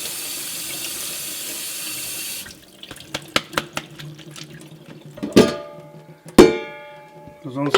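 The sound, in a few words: rinsing food under cold running tap water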